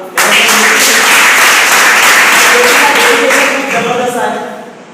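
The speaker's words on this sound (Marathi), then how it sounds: "थोडक्यात हलक्या टाळ्या वाजवा" A group gathering audience bursts into sustained applause, a thick wash of many hands clapping at close range that holds steady before gradually thinning out, with some voices mixed in.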